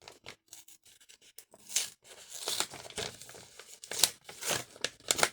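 Paper tearing and crinkling as an oversized mailed envelope is torn open along its side, a run of rough rips and rustles close by with short pauses between them, no voices.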